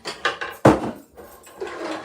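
Pots and pans clank and scrape in a home kitchen as cookware is pulled out and set down, a few close metallic knocks and a sharp clatter followed by softer shuffling.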